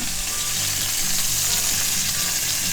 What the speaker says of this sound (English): 3 minutes tops to sear that sucker